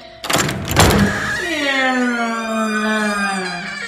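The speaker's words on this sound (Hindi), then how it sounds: "ये दरवाजा खुलने की बात थी" A door creaks open in a horror setting: a knock-like clatter, then a long, loud, rising wooden squeal that drags on to the end.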